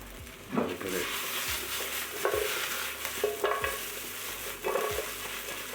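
Ginger chicken meatballs sizzle steadily in a pan while a utensil stirs them, scraping and knocking against the pan every second or so. The sounds are close and fairly quiet.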